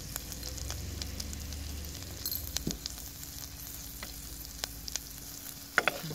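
Garlic and chili sauté in hot oil for a horsegram soup, giving a steady close sizzle with occasional sharp pops and spoon clicks against the pan.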